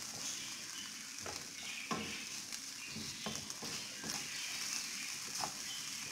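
Minced mutton and onions sizzle steadily in a pan, with scattered scrapes and clicks of a utensil stirring through the mix; no one speaks.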